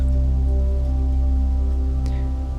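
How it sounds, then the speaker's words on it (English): Steady rain falls, with a continuous dense patter over a constant low hum, loud and unbroken for the whole stretch, and no voices. "The rain playing the drums."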